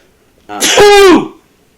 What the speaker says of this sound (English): It's like that was the first sneeze on the podcast